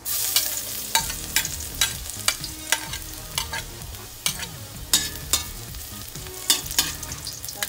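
Garlic sautéing in a pan for a sardine and Baguio beans dish, with a steady sizzle broken by repeated sharp scraping clicks of a utensil against the pan at an uneven rhythm, close and fairly loud.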